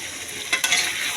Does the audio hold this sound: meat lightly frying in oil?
yes